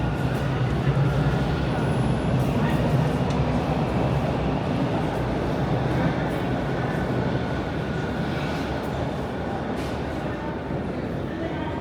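Steady underground rumble of a Toronto subway at the eastbound platform of Christie station, a continuous loud roar of train and ventilation noise with a faint squeal.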